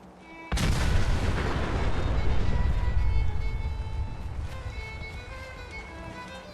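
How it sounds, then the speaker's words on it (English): Artillery strike in the video game Fallout 4, a sudden loud explosive boom followed by a long rolling rumble and debris-like crackle that slowly fades, with no talk. "Artillery support. Use it wisely, General."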